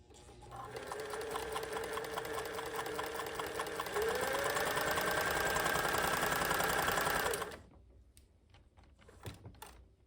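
A Pfaff 360 sewing machine stitches a narrow zigzag in a steady, fast mechanical chatter for about seven seconds, then stops abruptly, leaving faint handling clicks and quiet room noise.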